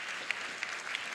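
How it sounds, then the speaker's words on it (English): An audience at a community assembly breaks into brief, dense applause, a continuous patter of many hands clapping, heard close with no speech over it. "Give yourself a round of applause for your participation."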